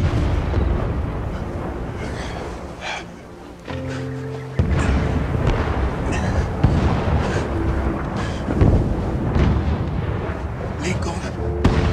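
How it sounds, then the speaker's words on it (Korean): Cannon fire booms in a Civil War-era film scene, heavy low blasts and rumbling bursts layered under dramatic music and narration throughout. "아주 가까이서 들려오는 링컨의 대포 소리"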